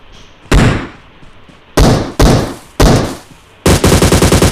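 Gunfire in PUBG Mobile on the Sanhok map: loud, sharp bursts, a single shot, then a few spaced shots, ending in a rapid automatic volley, with near-silent gaps between them.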